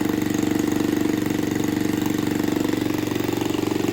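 A rebuilt 1968 2HP Briggs & Stratton small engine runs steadily near the listener with a fast, even putter and no change in speed.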